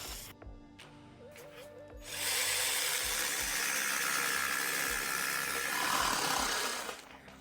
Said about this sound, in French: mais cela fonctionne aussi avec la scie sauteuse.